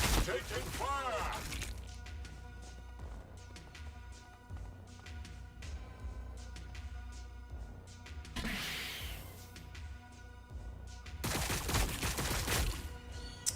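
Gunfire in the Warhammer 40K Battlesector video game, a steady stream of rapid shots and sharp cracks with louder bursts of blasts and crashes, heard alongside other game effects throughout.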